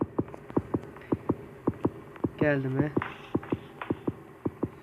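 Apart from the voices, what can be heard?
heartbeat sound in video game Granny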